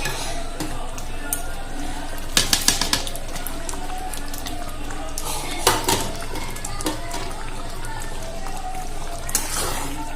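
A utensil clinks and scrapes in a pan of paneer and peas malai curry, giving a few bursts of metallic clatter over a steady low background hum, close and moderately loud, with a voice faintly present.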